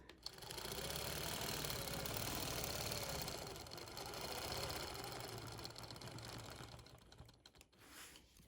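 A sewing machine stitches steadily while free-motion quilting feather designs across a quilt, its continuous whirring motor running unbroken for several seconds before easing off at the end.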